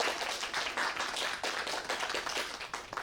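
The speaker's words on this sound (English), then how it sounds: "Round of applause for Book People." An indoor audience at the BookPeople bookstore gives a dense round of applause at a Torch Literary Arts event, steady and sustained hand clapping throughout with no talking.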